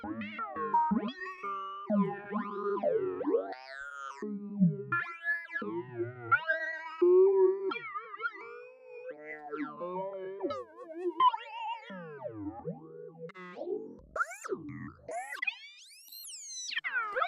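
A warbling, high-pitched voice sample transposed up 24 semitones with formant filtering chatters and glides through vowel-like filtered sweeps, jittery and glitchy, with no ordinary speech.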